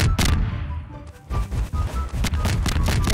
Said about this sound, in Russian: Я еще по тебе стреляю, Дим.